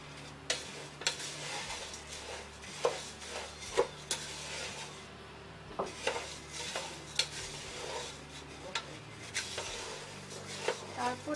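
Chanachur being tossed and stirred into puffed rice in a pan, with irregular dry scraping and sharp clicking knocks of a utensil against the pan over a quiet background.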